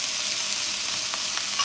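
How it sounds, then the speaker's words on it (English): Onions sizzling in a little oil in a pan, a steady loud hiss and crackle throughout with faint stirring scrapes near the end. "So, okay, onions in, a little bit more oil."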